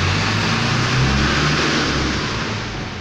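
Ford Ka 1.0 engine running with a misfiring cylinder, giving a steady, loud, close drone with a rough, uneven low thrum and no talk.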